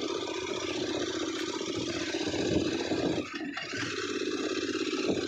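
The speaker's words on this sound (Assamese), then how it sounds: "আৰু পাহাৰত মোৰ এই বাইকৰ চাউণ্ডটো কেনেকুৱা আহিছে মোক জনাবচোন।" A motorbike engine runs steadily while riding a rough hill road to Balijan, with a continuous loud drone and wind noise and a brief dip midway.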